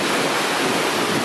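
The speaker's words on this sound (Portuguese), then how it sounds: "Olha só ali o riacho." Floodwater rushes along a flooded street in Vicente Pires like a creek, a steady, loud, broadband roar of moving water that fills the whole moment without pause.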